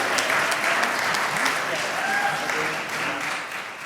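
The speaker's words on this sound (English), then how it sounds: "another round of applause for Ingredient" A crowd applauds steadily at a youth entrepreneurship challenge event, a loud, dense, sustained wash of clapping that fades slightly toward the end, with voices faintly mixed in.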